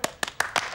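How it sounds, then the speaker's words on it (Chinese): A few sharp, close hand claps mark an audience welcoming a speaker at a meeting. About five separate claps come in quick, even succession, with no voices. "来，鼓掌欢迎。"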